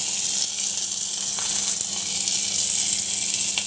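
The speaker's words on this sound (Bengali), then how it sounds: "এবার একটু টমেটো দিয়ে দেবো, একদম কম তেলে" Tomatoes fry in just a little oil for an aloo sabzi, giving a steady, bright sizzling hiss that carries on evenly and close, with no voices over it.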